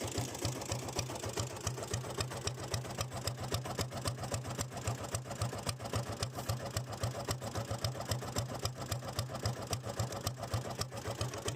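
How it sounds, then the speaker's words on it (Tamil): A restored diesel Royal Enfield Bullet motorcycle engine idles steadily with a fast, even thumping beat, close and continuous with no talking. "வண்டி பீட்டை நீங்கள் கேளுங்க."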